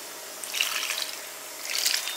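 A short, gentle rush of pouring water comes in two soft bursts, close by and without voices.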